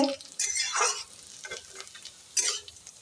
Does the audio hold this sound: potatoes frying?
yes